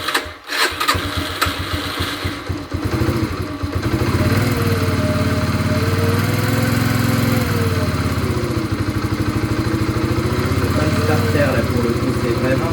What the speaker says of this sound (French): c'est vraiment qu'elle tient pas le ralenti